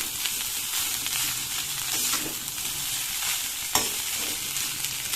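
Rice being stirred into egg fry in a hot pan, continuous loud sizzling and frying hiss with occasional scraping spatula strokes, close up and without talk.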